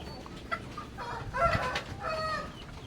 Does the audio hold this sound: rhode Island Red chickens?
yes